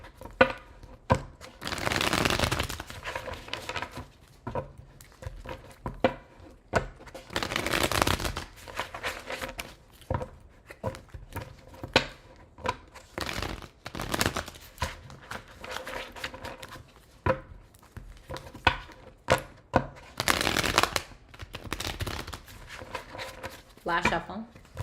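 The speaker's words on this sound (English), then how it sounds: "Last shuffle." Tarot-style cards are shuffled by hand for an astrology reading, bursts of crisp riffling and bridging repeating every few seconds up close, with a voice speaking between and over the shuffles.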